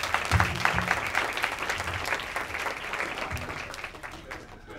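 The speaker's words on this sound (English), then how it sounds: "warm round of applause for executive producer of Great Lake Warriors" An audience claps for a guest being introduced at a producers panel event, a warm burst of applause that fades gradually, with a voice speaking over the clapping.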